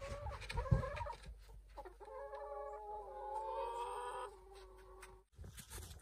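Chickens at an off-grid cabin after the first snowfall cluck and call in a busy, overlapping chorus, fairly close, with a short louder squawk early on and steady throaty clucking throughout.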